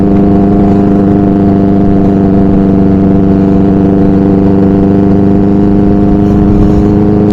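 A motorcycle engine runs loud and close on a ride in Belagavi, holding a steady, heavy drone with a strong hum and no clear revving peaks. No one speaks.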